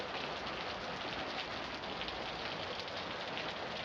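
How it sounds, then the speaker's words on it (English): Heavy rain pours in Long Beach, California, a dense, steady hiss of water drumming on surfaces and running off a roof, constant and loud throughout with no voices. "I mean, we're talking a lot of rain."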